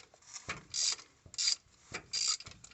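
A ratchet tightens 12mm bolts on a Melling oil pump in a 2003 Ford 6.0 Powerstroke engine, giving three quick rattling clicking bursts close by and fairly quiet, separated by short pauses.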